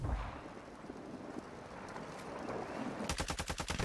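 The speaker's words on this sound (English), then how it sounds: "I hear shots." Gunfire in the shooter game Call of Duty: Warzone, a continuous rumbling barrage that breaks into a rapid, evenly spaced burst of loud shots near the end, with no voices.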